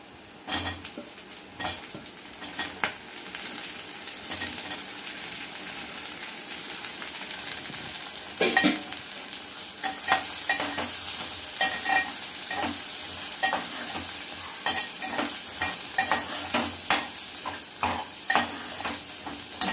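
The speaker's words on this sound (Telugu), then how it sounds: "బెండకాయ కూడా ఆయిల్లో కొంచెం వేయాలి." Okra pieces fry in a little oil in a pan, a steady close sizzle broken by repeated scraping and clinking stirring strokes from a utensil, no voices.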